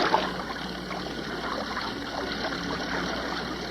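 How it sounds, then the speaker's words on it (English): A small boat moves across Lake Urmia in Iran during flamingo banding, with a steady wash of water swishing and gurgling against the hull at low volume. "Biologist Mohammed Khalili handles their boat"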